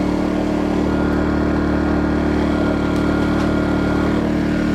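An Atima AY2000i inverter generator drones on steadily up close, a constant loud hum with no pauses and no voices.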